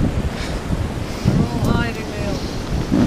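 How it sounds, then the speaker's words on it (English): Wind and surf at a riverside campsite in Southport after a stormy night, a steady broadband roar with gusty buffeting on the microphone, while a few faint voices murmur underneath. "Cold and windy again."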